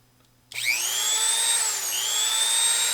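A Mexican-made Dremel rotary tool with a single on/off speed starts abruptly and spins up into a steady, high-pitched whine with slight pitch wavering, running close and alone.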